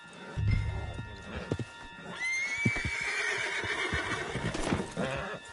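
A horse in the video game Red Dead Redemption 2 whinnies loudly over the clatter of hooves, with rustling movement and a brief low thump at the start.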